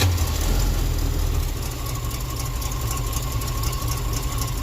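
A car engine, just started, idles very low at about 500 RPM, a steady loud rumble with a faint knocking throb running throughout and no talking.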